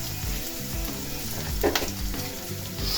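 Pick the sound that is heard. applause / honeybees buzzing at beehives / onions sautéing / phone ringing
onions sautéing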